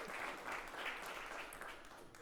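Spectators applauding during a ping pong match, a soft, fairly distant patter of many hands that holds steady for a couple of seconds at a low level.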